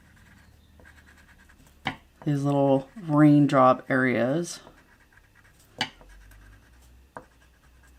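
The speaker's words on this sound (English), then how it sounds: "now I'm going to color in" A pencil or crayon colors in a drawing of dandelions, with steady close scratchy strokes on paper heard before and after a spoken phrase, then a few sharp taps.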